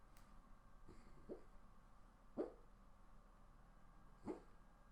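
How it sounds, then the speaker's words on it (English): A sleeping dog makes noises while dreaming: three soft, muffled little yips or woofs spaced about a second apart, faint and close in a quiet room. "If you guys are hearing this right now, my dog is actually dreaming."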